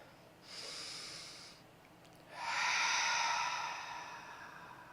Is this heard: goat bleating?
no